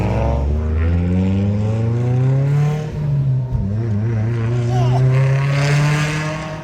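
A car engine runs loud and steady with strong low harmonics, revving up and down under excited voices talking in the car.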